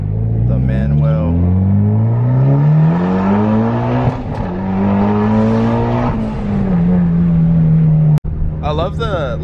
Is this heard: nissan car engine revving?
yes